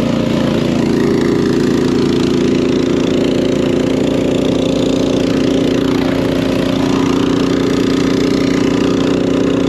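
An Ariens Pro 28 Hydro EFI snow blower runs steadily at crawl speed, a loud continuous engine drone with no change in pitch, heard alone for the whole stretch.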